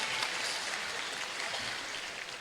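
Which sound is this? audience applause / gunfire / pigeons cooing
audience applause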